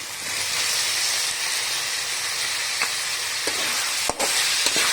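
Sausages frying in a pan with ginger garlic paste, a loud steady hiss and sizzle with a few clicks and taps of a utensil, close up and without voices.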